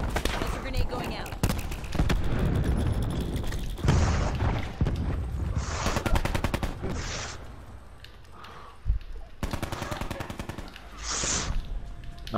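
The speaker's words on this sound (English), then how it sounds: "Grenade going out." Call of Duty Black Ops 4 combat: dense bursts of automatic gunfire and explosive booms, loud and close, with short gaps between volleys and players talking over the action.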